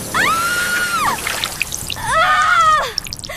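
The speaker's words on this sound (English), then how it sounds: "Water jet activated." A toy water gun fires a jet of spray in two bursts, each about a second long, with a bright rising-and-falling hiss alongside whistling tones, close and loud.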